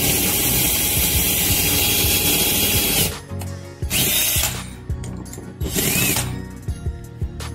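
An Acme threaded screw jack driven by a power tool, first a steady loud whirring run, then shorter bursts of motor noise with ratcheting clicks in between.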